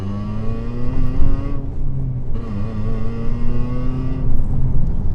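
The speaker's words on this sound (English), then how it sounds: "Got a better sounding exhaust." A car engine revs up and down several times, loud and raspy with a harsh, unmuffled exhaust note close by, from an exhaust with the rear silencer box removed.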